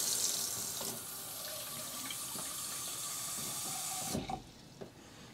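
Water runs steadily from a tap with a constant hiss, then shuts off with a faint clunk near the end.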